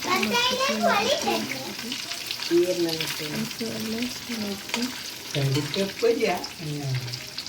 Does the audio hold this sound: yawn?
no